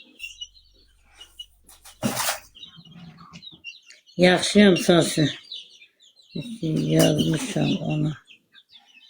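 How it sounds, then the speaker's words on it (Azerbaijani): Small chicks cheep in quick, high-pitched bursts close by, with clusters of peeps between stretches of quiet, and people talk over part of it. "Cücədir, balaca cücələr."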